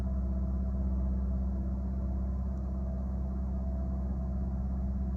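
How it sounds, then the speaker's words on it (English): A Toyota Corolla engine running at a high idle of about 2000 RPM after a throttle body cleaning, giving a steady, even drone with a constant low hum and no change in pitch. "So I just started up the engine and immediately the RPM went to 2000."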